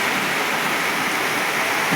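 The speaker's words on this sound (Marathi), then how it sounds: "चांगला पाऊस म्हणजे आता थोडा थोडा येतोय" Steady rain falling on farm fields, a continuous broadband hiss of water with no distinct drops standing out, fairly loud and unbroken throughout.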